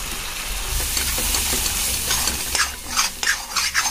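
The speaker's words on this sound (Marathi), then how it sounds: "आता आपण हे सगळं मिक्स करून घेऊया।" Masala and ginger-garlic paste stirred in a hot pan for shev bhaji, a steady close sizzle with scraping spoon strokes growing more distinct toward the end, no voices.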